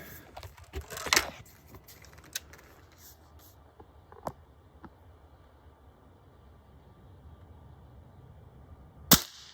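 Two sharp cracks of a Walther Parrus .22 air rifle firing, one early and one near the end, with smaller clicks and handling noise between them and a quiet background.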